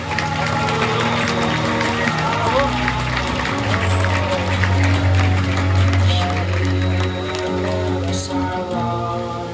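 Zoo visitors at an outdoor animal presentation clap steadily in a loud, continuous wash of applause, with music or voices running underneath throughout.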